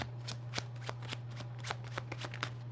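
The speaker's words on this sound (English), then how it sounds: "Hold on, one more time, because that was not a good shuffle." A deck of tarot cards is riffled and shuffled in quick, crisp bursts of snapping card flutter, repeated about ten times at close range over a steady low hum, with no talking.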